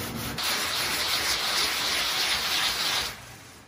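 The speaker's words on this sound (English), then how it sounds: "We gave her a 60 grit paper and put her to work." Hand sanding with 60 grit sandpaper on a Bondo-coated mold for a bush plane build, a loud, continuous close scraping rasp lasting about three seconds before it stops.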